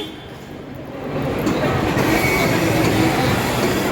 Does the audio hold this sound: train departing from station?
yes